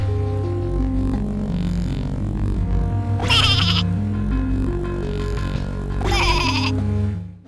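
Sheep bleating in a video game, two loud, close bleats a few seconds apart over a continuous game music background.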